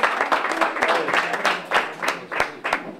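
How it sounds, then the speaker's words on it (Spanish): Diners at an association's annual lunch assembly in a restaurant clap in welcome, with distinct, uneven claps close by and a few voices mixed in. "Un aplauso."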